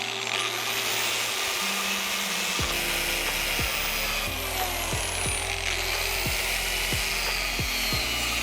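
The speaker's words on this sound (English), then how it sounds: "next job is to cut all these little bits and bobs of brackets off the frame" An angle grinder cuts small brackets off a motorcycle frame for a budget race bike build, a loud continuous whine with the pitch rising and dropping as the disc bites the metal, up close.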